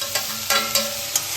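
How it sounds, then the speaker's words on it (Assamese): Tomatoes fry in a pan with capsicum and chillies, four distinct scraping strokes of stirring sounding over a steady, close sizzle. "এতিয়া মই দিম বিলাহী দি দিম"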